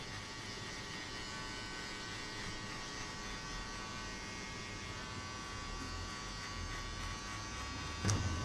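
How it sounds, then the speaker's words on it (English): An electric hair clipper with a zero gap buzzes steadily while shaving the lower section of a high skin fade, a continuous close hum with a small bump near the end. "now shave everything below using the clipper"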